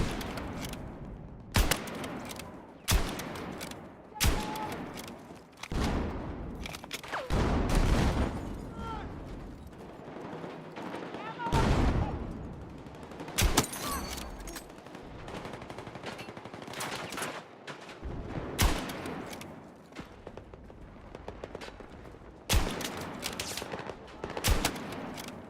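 Sniper rifle shots in a video game, from a Mini Scout: loud, widely spaced single blasts that ring out one at a time, with speech and quieter game noise in the gaps.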